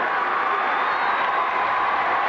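A large football stadium crowd at a 1983 Syracuse versus West Virginia college game roars continuously, a dense, loud, sustained cheer with no breaks.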